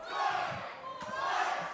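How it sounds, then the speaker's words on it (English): A wrestling crowd roars in a sustained, chanting swell, with a brief sharp impact midway and excited shouting blended into the noise. "Listen to that crowd."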